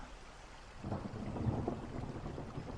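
Steady rain falls with rolling thunder swelling partway through, a soft, distant rumble building under the constant patter of drops, with no voices.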